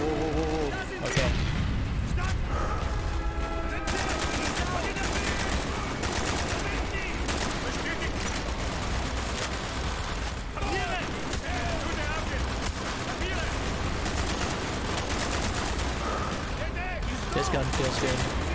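Dense, continuous gunfire and explosions in the Call of Duty: Black Ops campaign, rapid bursts layered with booms and a constant loud barrage, with a voice heard briefly over the combat.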